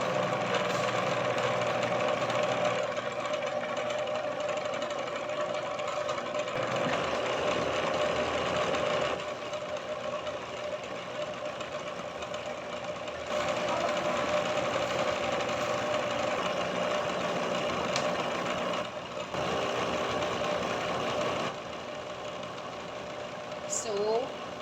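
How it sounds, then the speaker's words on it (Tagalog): An electric blender runs steadily, whirring and droning as it blends soursop (guyabano) fruit into a shake, continuous and fairly loud with slight shifts in pitch throughout. "So, 2 to 3 minutes ang pag-blend ng ating guyabano."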